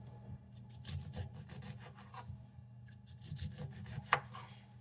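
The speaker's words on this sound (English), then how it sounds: "So now I'm going to just cut it in slices." Knife slicing lemons on a cutting board for peach lemonade, soft repeated rasping cuts with light taps against the board, close but quiet.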